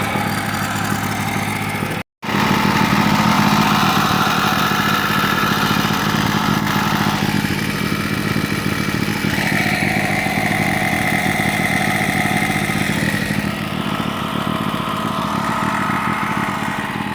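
A used Champion portable generator runs steadily, its engine head patched with JB Weld, giving a loud, continuous close-up drone with a mechanical whine and hum and one brief dropout near the start; nobody speaks.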